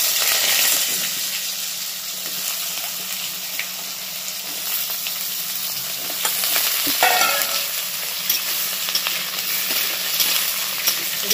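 Ridge gourd frying in a pan gives a continuous loud sizzle and hiss, with occasional stirring scrapes and crackles across the whole stretch and no voices.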